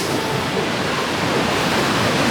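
Atlantic Ocean surf breaking at Sandwich Harbour, Namibia, where desert dunes meet the sea: a steady, loud, broadband roar of waves with wind, continuous and without talk.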